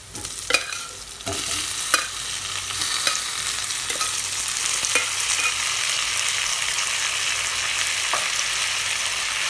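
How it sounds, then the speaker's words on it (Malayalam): Cooked tapioca mashed and stirred in a pan for tapioca upma: a steady close hiss of frying with scattered sharp scraping knocks from the spoon, no voices. "ഇനി നമുക്ക് കുക്കിയിൽ വെച്ചിരിക്കുന്ന കപ്പ അടി കൊടുക്കാം"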